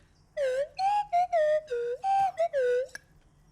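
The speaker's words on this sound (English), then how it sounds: "I'm a little rusty with my you know, slide whistle" A slide whistle plays a melody as a string of clear, breathy notes that glide up and down in pitch, with short gaps between phrases, heard alone and fairly quiet.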